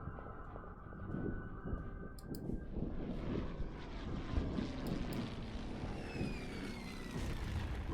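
Bomber aircraft engines in the wartime strategy game Order of Battle: Red Steel roar as a continuous propeller drone that swells after the first second and holds steady, with a faint rising whine late on.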